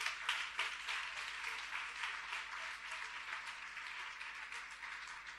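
A church congregation applauds together, a steady wash of dense clapping that carries on evenly without pause, close and full, with no talking over it.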